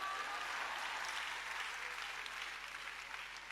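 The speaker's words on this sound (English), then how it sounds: "You better clap because it's the truth." A church congregation claps during a sermon, a dense, steady wash of many hands that holds evenly for several seconds and sounds somewhat distant and soft.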